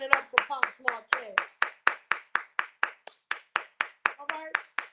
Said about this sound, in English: And I'm clapping it up